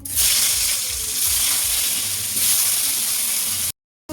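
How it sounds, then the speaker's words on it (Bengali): Eggplant pieces fry in hot oil with a loud, steady, close sizzle and hiss that holds evenly before cutting out briefly near the end. "এখন আমি ওই তেলেই বেগুনগুলো ভেজে নেবো।"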